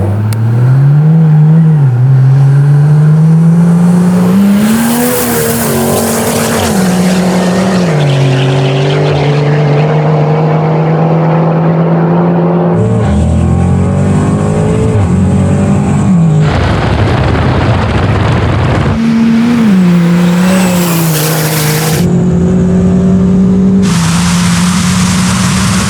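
A 900hp turbo diesel Ford F1 and a 1000hp Audi RS 6 launch in a no-prep drag race, loud close engines roaring and revving up through rising gear pulls with sharp shifts, the pitch sweeping upward repeatedly, no talking.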